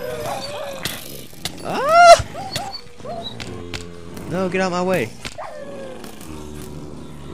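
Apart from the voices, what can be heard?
dogs barking and growling in Minecraft video game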